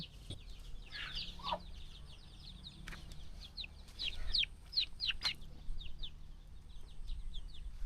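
Free-range country chicks around 18 days old on a farm, a steady run of thin high peeps and chirps with a few lower clucks, fairly faint and moderately close, over a low background hum.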